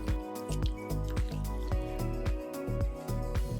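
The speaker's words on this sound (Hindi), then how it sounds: "थोड़ा सा पानी डालकर स्टर कर लेंगे।" Thick chilli chicken sauce with a little water added gets stirred in a pan, making a quick run of wet squishing, dripping slaps at a steady, close rhythm.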